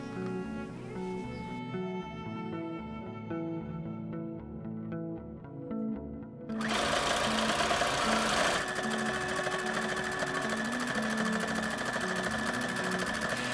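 A sewing machine runs a seam about half a centimetre from the edge of bamboo or terry towelling fabric for a shower puff, a loud, close, steady mechanical whirr and rapid needle clatter that briefly eases, then surges louder.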